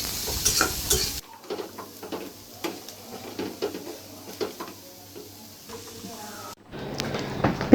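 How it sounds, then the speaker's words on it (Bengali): Onions drop into hot oil with garlic and green chilli, hissing and crackling steadily with stirring scrapes, bracketed at start and end by louder, broader noise. "এখন পেঁয়াজগুলো দিয়ে দিচ্ছি। পেঁয়াজগুলো একটু তেলে হালকা তেলে নিতে হবে।"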